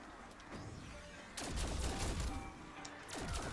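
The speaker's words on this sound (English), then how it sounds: "I might just shoot a few." Gunfire from the Call of Duty Cold War Zombies video game comes in loud bursts of rapid shots, with a short pause between volleys and a steady game backdrop underneath.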